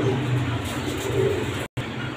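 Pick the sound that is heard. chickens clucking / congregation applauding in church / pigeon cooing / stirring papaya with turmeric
pigeon cooing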